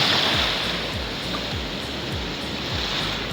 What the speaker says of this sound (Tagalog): mahangin kasi, kaya malakas ang alon